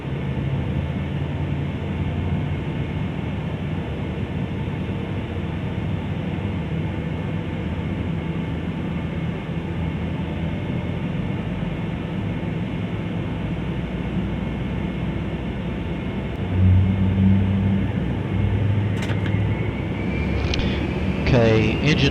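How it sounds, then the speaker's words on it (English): Engine 2 of a Boeing 757 spools up on start beneath a steady, loud cockpit drone, with the roar swelling partway through and a rising whine near the end. "So ready for engine start now."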